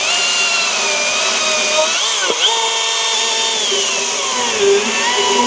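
A 50 cc two-stroke gas chainsaw, the OCS 500, runs steadily and loud at a close distance. Its high, buzzing engine note holds throughout with a short dip in pitch partway through, and no voices are heard.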